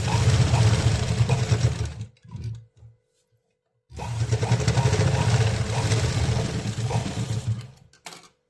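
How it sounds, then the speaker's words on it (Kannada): A sewing machine stitches a straight seam on a blouse button strip, running in a loud steady mechanical whir, then stopping briefly with a short stuttering restart before running continuously again, with no one speaking. "ನೋಡಿ ಈ ರೀತಿ ಸ್ಟ್ರೈಟಾಗಿ ಒಂದು ಸ್ಟಿಚ್ ಹಾಕೋದು."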